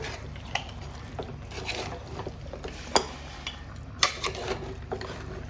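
A beef curry with onion, tomato and masala is stirred in a pot, with scattered scraping and clinking taps of a utensil against metal over faint background noise.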